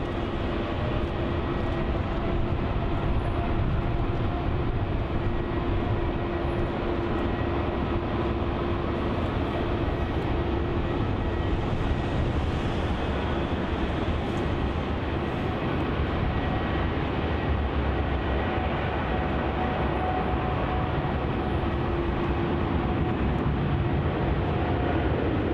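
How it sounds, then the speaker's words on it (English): An Air India Boeing 787-8 Dreamliner takes off at Melbourne Airport, its engines producing a loud, steady broadband roar with a sustained low rumble and a faint whining tone, unbroken for the whole stretch with no talk. "Here goes AI 309 off to Delhi. Air India 7879 8 Dreamliner."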